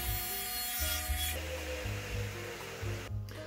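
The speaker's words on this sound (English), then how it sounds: "Now I'm going to be using the radial arm saw for this" A radial arm saw cuts through PVC pipe for a large rocket motor build. A loud, steady motor whine is overlaid with rough rasping as the blade works the plastic, and the pitch shifts as the cut progresses.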